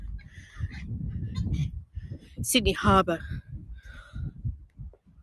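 A bird calls out at North Head by Sydney Harbour on a cold, windy day, giving a brief squawking cry in the middle while someone talks over it nearly the whole time.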